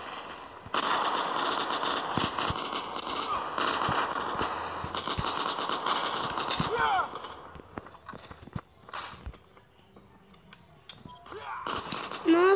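Rapid automatic weapon fire in the online shooter Modern Strike, long sustained bursts that break off into scattered single shots and a final burst, mixed with game effects and occasional talking.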